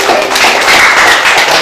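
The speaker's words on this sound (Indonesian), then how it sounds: "Tepuk tangan dulu buat Randi" A university art-education classroom breaks into applause for a student, a dense, loud and steady wash of many hands clapping at once with no pauses.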